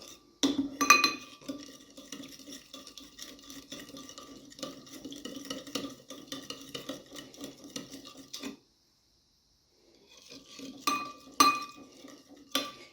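A spoon stirring potato and beet salad in a bowl gives repeated scraping and clinking, steady for several seconds, then a pause before a few sharper metallic taps resume.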